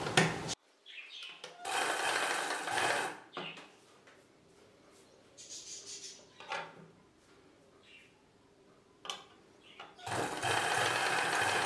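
Sewing machine stitching a blouse, running in several loud bursts of rapid mechanical whirring separated by quieter pauses with small clicks and handling noises, fairly close.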